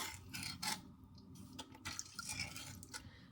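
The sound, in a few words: stirring shoyu ramen broth and tare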